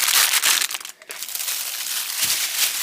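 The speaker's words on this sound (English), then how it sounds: "You can tell it's like, has a higher pitch sound when you crinkle it." A polystyrene plastic bag being crinkled by hand gives a continuous, bright, crisp crackling close by, with a brief lull partway through and no voices.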